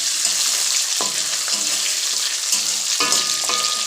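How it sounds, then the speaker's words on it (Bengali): Hilsa fish pieces lightly frying in hot oil for a pickle, a continuous loud crackling sizzle with a few sharp spatters and utensil clinks. "তাই একটুখানি হালকা করে ভেজে নিলাম"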